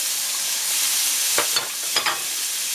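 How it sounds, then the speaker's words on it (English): Onions dropped into a hot pan for gumbo, giving a loud steady hiss of sizzling with a couple of brief clatters near the end and no voices. "There go the onions"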